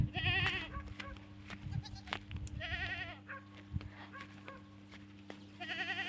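Several goats bleat at intervals, some close and some farther off, over a steady low hum and scattered background noise.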